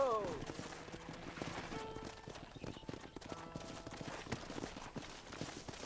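Horse hooves clip-clop in a Western ranch setting from Red Dead Redemption, a steady run of hoofbeats at moderate distance alongside faint game ambience.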